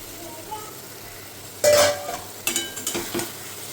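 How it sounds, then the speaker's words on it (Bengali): Fried pointed gourd stirred into poppy seed paste in a pan: a quiet simmer, then a sudden loud scrape and a run of rhythmic utensil knocks and clinks from the stirring. "পোস্তর সঙ্গে ভালো করে পটলগুলোকে নাড়িয়ে নিয়ে"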